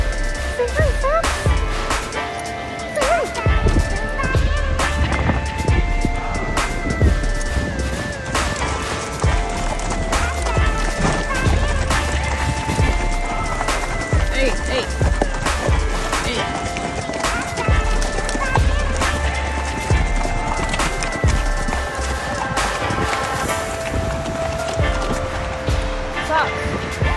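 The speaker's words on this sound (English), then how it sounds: "Guys are just on a bit of a trail ride, and this is my horse today." Hooves of Socks, a horse on a trail ride in Iceland, clopping steadily on the ground amid a busy outdoor mix, with people talking throughout.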